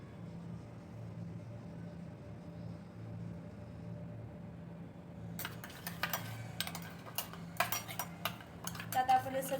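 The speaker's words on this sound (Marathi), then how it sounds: "त्यात आपण हे सगळं चटणी मिक्स करतोय" Chutney sauces, including sweet and spicy sauce and a little soy sauce, mixed in a bowl: faint quiet hum at first, then close spoon clinks and scrapes against the bowl in irregular bursts during the second half.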